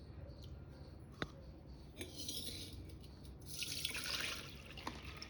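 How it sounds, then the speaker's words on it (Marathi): Water draining off two cups of soaked moong dal in a kitchen, a soft running trickle and splash that swells toward the end, with a few light clinks of a vessel. "पूर्ण पाणी काढून टाका।"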